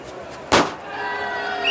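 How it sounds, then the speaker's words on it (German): A cartoon football bursts on a hedgehog's spike with a single loud, sharp pop, followed by a fading hissy whistle as the air escapes. "Das runde Leder ist auf dem Stachel von Igor aufgespießt und ist zerplatzt."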